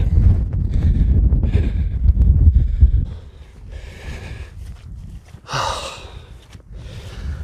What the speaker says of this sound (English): the background noise is mostly me panting and the squelching of boots in the muck